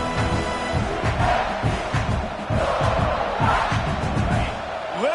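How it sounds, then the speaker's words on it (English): Roaring stadium crowd in a simulated football video game, loud and continuous cheering with swelling waves of noise throughout. "Listen to this crowd just shaking the girders of this place, trying to help their defense."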